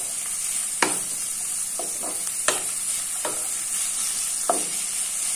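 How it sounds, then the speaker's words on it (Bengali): Onion and garlic fry in a pan with a steady sizzle, while a spoon scrapes through them in a few sharp clicks spaced a second or so apart. "এর জন্য তোমরা সময় নিয়ে এই পেঁয়াজ রসুনটা একটু ভেজে নেবে ভালোভাবে।"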